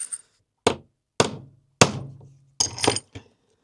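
Letter stamp punches are hammered into aluminium: five or six sharp, ringing metallic strikes, close and distinct, each separated by about half a second of silence, with a brief buzzing resonance after some blows.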